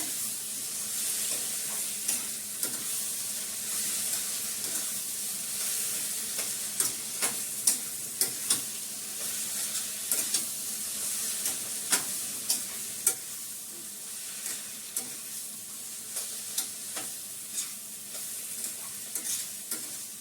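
Steady oily sizzle of cauliflower frying in oil with repeated scraping and clinking of a spatula stirring the pan, close and continuous.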